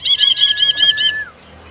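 A greater green leafbird (cucak biru) gives a bright, clear call, a quick run of about six ringing notes over a held whistle that fades out, loud and close with no talk.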